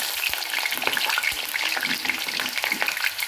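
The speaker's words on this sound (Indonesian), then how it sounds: "ini kita tunggu minyaknya biar panas dulu ya, pelototin biar kemudian kita cemplungin kentangnya" Steady crackling sizzle of hot oil in a pan, close and continuous, with no voices, as the oil heats before potatoes go in for a goat curry.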